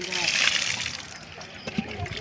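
Water is poured out during a temple ritual, a soft splashing and sloshing heard close by under a man's speech.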